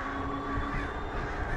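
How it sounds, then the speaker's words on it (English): Crows caw outdoors, moderately distant, in a string of harsh, repeated calls over a steady background hum, with no talking. "Birds."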